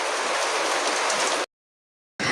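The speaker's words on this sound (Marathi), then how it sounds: "हे बघा आमच्या इकडे किती पाऊस पडतोय" Heavy rain pours outside in a dense, steady rush, cutting out for a moment before resuming.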